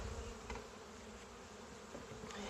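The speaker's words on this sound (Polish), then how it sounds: "Tutaj jest pszczoła" A dense, steady hum of many honey bees buzzing together at an open hive during a spring inspection, continuous and close, with no voices.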